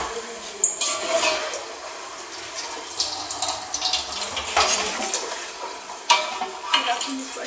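Chicken is stirred in a cooking pot for biryani, with wet scraping, sloshing and sizzling sounds coming in irregular bursts, close and moderately loud.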